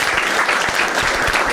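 An audience at a Marathi stand-up comedy crowd-work show breaks into brief, dense applause, a close wash of clapping with no talk over it.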